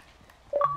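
A short two-tone electronic chime of a video game invite notification, sounding abruptly after a near-silent lead-in, clean and bright, like a phone keypad beep.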